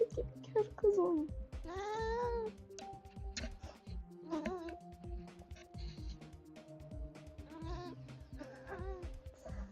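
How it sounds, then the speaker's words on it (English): A pet cat meows repeatedly beside a gamer, several rising and falling meows mixed with a person talking and background game sounds. "I have my cat next to me."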